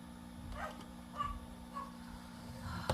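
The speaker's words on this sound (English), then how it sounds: "I swear these doggos just bark at the wind or the leaves" A dog gives a few short, separated yips or barks at a distance over a steady low hum.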